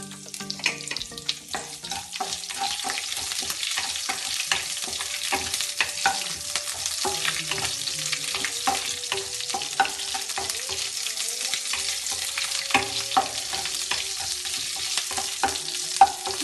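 Chopped green chillies frying in hot oil in a pan for Nellore-style fish curry, a continuous crackling sizzle with repeated sharp spatula scrapes and taps, fairly close and steady with no voices.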